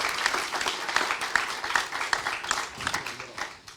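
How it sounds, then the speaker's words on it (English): A talk audience gives a short round of applause for an arriving speaker. The sparse, fairly quiet hand claps come through as distinct rhythmic slaps rather than a dense roar, tapering off toward the end. "Please have a seat and give him an applause because he came all the way."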